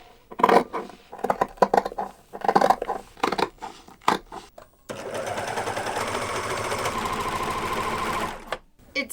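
A serger stitching seams in knit fabric runs in a steady, fast mechanical chatter for several seconds, close, after a stretch of rustling and handling of fabric.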